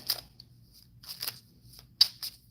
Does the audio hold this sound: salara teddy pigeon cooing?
no